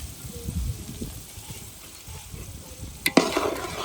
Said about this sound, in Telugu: ఇప్పుడు టమాటా వేగిపోతున్నాను టమాటా కూడా పేస్ట్ చేసేసుకున్నాను